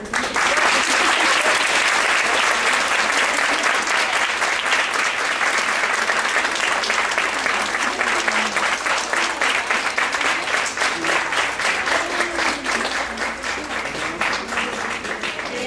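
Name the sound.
audience applause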